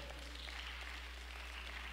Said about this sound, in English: Let's give the brothers a round of applause.